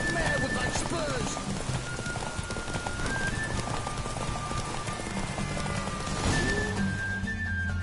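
Horse hooves clip-clop at a fast gallop during a horse race in The Witcher game, a quick drumming rhythm under rain-like hiss, with a voice speaking over it and a brief whinny.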